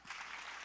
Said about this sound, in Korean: 역시나 큰 박수와 환호로 모셔보도록 하겠습니다.